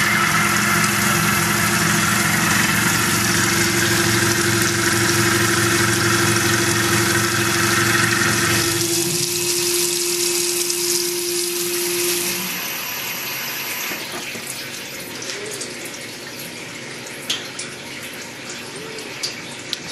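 A Tormach PCNC mill cuts steady at a 1000 RPM spindle speed with a 15-thousandths width of cut and 20-thousandths feed, a loud broadband whine with a sustained tone that drops off about halfway, leaving quieter machine noise.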